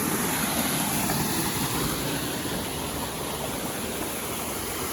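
A rainforest waterfall on Gede volcano in Indonesia roars in an even, dense broadband rush, loud and close, with no voices.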